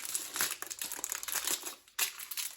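Ready-made pastry is pulled from its plastic packaging with close, loud crinkling and crumpling in quick irregular bursts and a short pause near the end.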